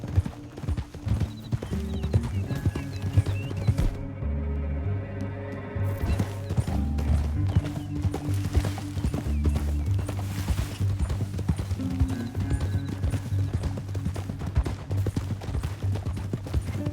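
Steady clip-clop of hooves at a gallop in Red Dead Redemption 2, loud and close, with a brief horse whinny amid rumbling low background noise.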